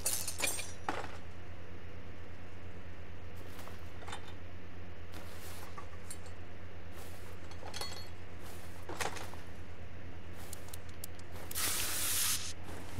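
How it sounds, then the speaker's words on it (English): Spray can in the Car Mechanic Simulator video game, giving several short, sharp hissing bursts at irregular intervals over a steady low hum, with the longest and loudest blast near the end. "Here's my magical spray."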